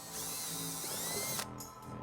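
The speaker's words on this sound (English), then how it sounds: "using a 5/16 drill bit, we're gonna go ahead and drill a couple of small holes in the bumper fascia" A power drill with a 5/16 bit boring a small hole in the plastic bumper fascia of a 2011 Hyundai Sonata, a close, steady whine that slows and rises in pitch, then cuts off, followed by a brief lighter whir.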